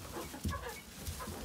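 A barred rock hen gives a few soft, brief clucks close by, faint against a quiet farmyard background with no talking.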